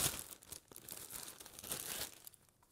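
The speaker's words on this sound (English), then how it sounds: "we're going to take the tortillas and cut them in half" Tortillas are cut in half in a kitchen, giving faint, close crinkling and soft tearing rustles in quick irregular bursts.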